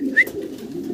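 A desi golla pigeon, large and plump, gives a soft low coo close by, with one brief higher note near the start.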